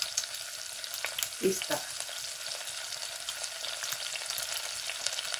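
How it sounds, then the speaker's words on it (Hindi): Potato and carrot tikki fry in a pan over low heat. There is a close, steady sizzle with a few soft stirring knocks and a brief spoken word. "हल्की आंच पे आपने इनको पकने देना है"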